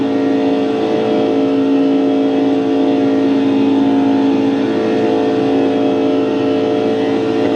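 Race car engine at Daytona in the iRacing sim, a loud, steady, sustained drone held at constant revs throughout, with no talk.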